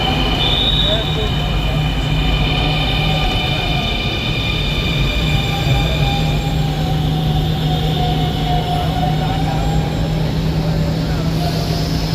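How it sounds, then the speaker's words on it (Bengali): A Dhaka Metro Rail train pulls into a station with a loud, steady rumble of wheels and high, sustained metallic squeals as it brakes, close to the platform, with people talking faintly underneath. "অপর পাশ থেকে দুটি ট্রেন চলে আসলো"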